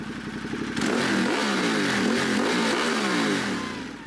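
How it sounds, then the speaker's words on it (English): A motorcycle-like engine revs hard and close, rising to a loud sustained roar with wavering pitch for several seconds before easing off, no voices over it. "Rev that shit. A little bit? Yeah, just a little bit."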